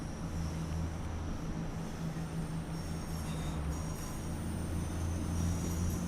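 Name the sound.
miniature railway train coming in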